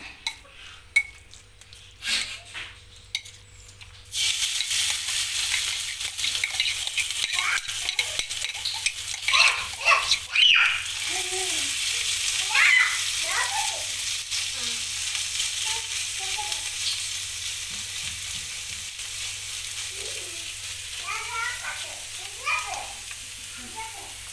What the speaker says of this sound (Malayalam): ഇനി മുട്ടയെ നമ്മൾ പാനിനകത്തോട്ട് ഇട്ട് കൊടുക്കണം